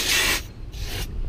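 A compressed air spray cleans a desktop computer's RAM chip in two short, loud hissing bursts, the first longer, close up with no talk.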